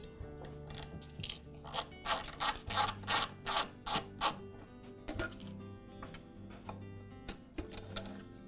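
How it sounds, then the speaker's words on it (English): A tool unscrews the single screw at the back of a KitchenAid stand mixer that holds the nameplate ring. Close, regular clicking bursts in a steady rhythm, each with a short metallic ring, fading toward the end. "We'll get started by removing this ring, sometimes called the nameplate ring or the beauty ring. It's held in place with a single screw at the back of the mixer."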